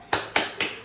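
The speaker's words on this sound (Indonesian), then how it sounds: "jadi mari kita tepuk semangat" Classroom rhythmic clapping chant, tepuk semangat, in three crisp, evenly spaced claps, close and loud, with no voices heard.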